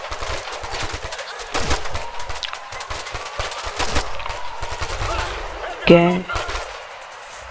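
Scattered gunshots and short bursts of automatic fire in the tactical shooter Ghost Recon Future Soldier, some loud and close, others more distant, with someone speaking briefly toward the end.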